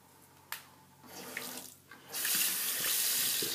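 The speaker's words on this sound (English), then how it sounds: "I'm just going to add a little bit more water to each side" Water runs from a tap into a vessel, starting with a brief trickle and swelling into a steady, loud splashing pour after a couple of seconds, with no talking.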